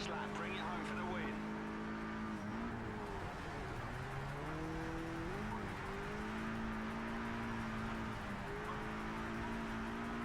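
A race car on the final lap in the Project CARS 3 video game, a steady engine drone rising and dropping in pitch through gear shifts and corners, with a faint tire squeal, under a continuous game soundscape.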